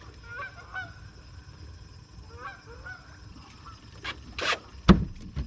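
A bunch of Canada geese honk at the water's edge, scattered nasal calls near and far over a low background, followed by sharp clacks and a bump close by toward the end.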